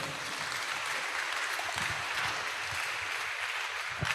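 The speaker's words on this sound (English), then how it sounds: "Please, a better round of applause for the Vice-Chancellor." Audience applause for the Vice-Chancellor at the close of an inaugural lecture ceremony, a soft, steady patter of many hands clapping throughout, fairly faint and distant.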